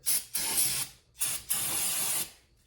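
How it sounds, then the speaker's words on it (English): Two long hissing bursts of aerosol parts cleaner spray on engine valves, each lasting most of a second, close to the microphone with a short pause between them. "I'll give them a quick spray."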